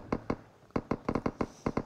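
Rapid bursts of gunfire in Battlegrounds Mobile India during a last-zone fight, around ten sharp shots in quick irregular clusters, loud and close with no talking.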